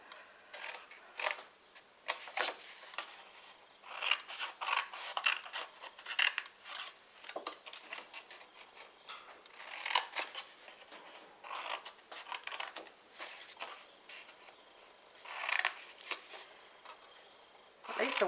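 Scissors snipping through card to cut away the corners of a slide-on lid box, a series of quiet crisp cuts and rustles in irregular bursts, close and faint.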